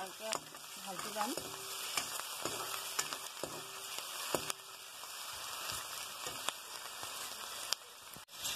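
Onion, ginger and garlic with bay leaves fry in a pan for a broiler chicken curry, giving a soft, steady sizzle punctuated by occasional clicks and taps of a stirring spoon.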